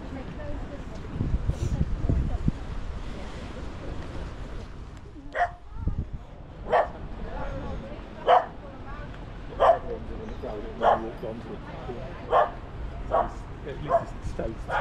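A dog on the Torquay seafront barks repeatedly in sharp, evenly spaced yelps, about nine barks at close range, following earlier muffled sounds and outdoor background noise.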